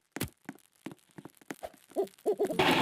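Owl hooting in the video game 99 Nights in the Forest, a run of short, soft hoots repeating in an uneven rhythm, close and clear, ending as a louder noisy wash rises.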